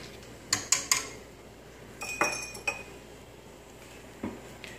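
Milk heating in a pot for homemade yogurt, stirred with a utensil that gives a few sparse, bright clinks and taps against the metal over a quiet background.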